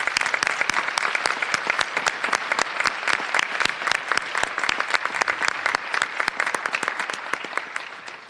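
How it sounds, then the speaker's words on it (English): Big, sustained applause from a crowd at a celebration honoring Blake Shepard, dense claps running steadily for over eight seconds without talk. "Give him a big round of applause."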